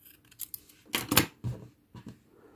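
Scissors snip through crochet yarn while making an amigurumi tiger keychain, several close, crisp metallic cuts in quick succession with a brief pause between, no talk.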